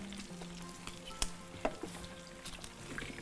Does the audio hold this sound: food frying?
yes